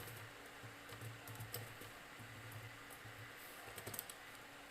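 Soft, quiet keystrokes on a computer keyboard while coding, tapping in short irregular runs over a faint steady fan hum, with no voices.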